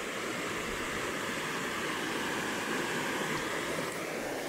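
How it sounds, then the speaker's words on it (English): Running water of a woodland stream on a hot June day, a steady close rushing and babbling that continues without pause. "running water."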